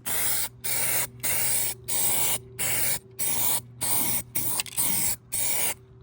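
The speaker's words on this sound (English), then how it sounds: "I then give it a coat of high build primer, followed by some body coloured paint" Short bursts of spray-gun hiss repeat at a steady rhythm as high-build primer and body-coloured paint go onto Renault 5 car bodywork, about nine close passes separated by brief gaps, with no voices.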